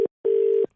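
A steady telephone tone sounds while a call is being placed: a short beep, a brief gap, then a longer sustained tone, clear and alone with no voices.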